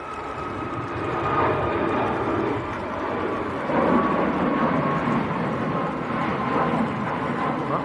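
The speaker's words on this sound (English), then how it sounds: "That was Ryanair to Faro down in Portugal." A Ryanair airliner bound for Faro, Portugal, roars steadily overhead at Manchester Airport, a broad continuous engine rumble that holds level throughout with a slight swell near the middle.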